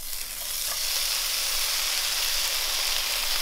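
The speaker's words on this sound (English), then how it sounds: "So we'll start by chucking the bacon in." Bacon sizzles steadily in a hot frying pan, a continuous bright crackling hiss with no talking.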